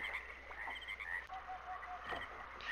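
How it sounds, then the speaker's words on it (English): Frogs croak and chirp in the video game Myst, Channelwood age, in a quiet, hushed ambience, several short calls overlapping softly at a distance. "Frog noises."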